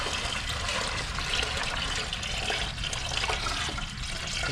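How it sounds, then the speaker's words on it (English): Water pours steadily off a bucket, likely in a gold recovery process for gold-filled jewelry, as a continuous close splashing rush with no pauses and no talking. "I'm just gonna decant this water off."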